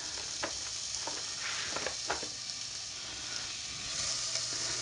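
Ground meat fries in a pan for lasagna, giving a steady, fairly quiet sizzle with a few soft stirring scrapes and clicks layered over it.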